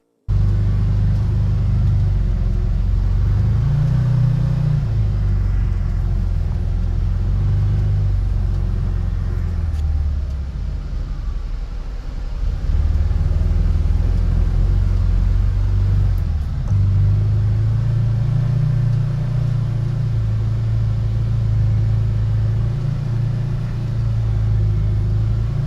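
A Can-Am Defender Limited side-by-side on 32-inch tires drives through snow in low gear, its engine a loud, steady rumble that dips briefly and swells again as the machine works along.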